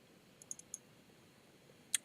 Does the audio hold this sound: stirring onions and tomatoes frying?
no